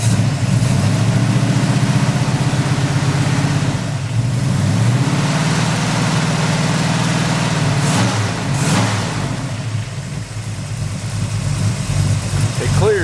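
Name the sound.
Pontiac Firebird engine running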